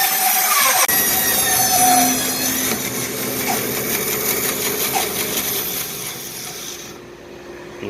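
A sawmill blade resaws a log, a loud, steady grinding cut that runs nearly the whole time after a short start, fading slightly near the end.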